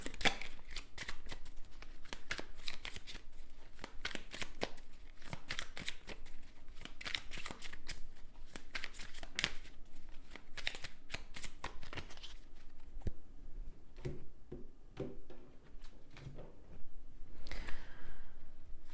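Tarot cards being shuffled by hand, a rapid run of crisp riffling flicks that carries on steadily, close and fairly loud with no talk, thinning out toward the end.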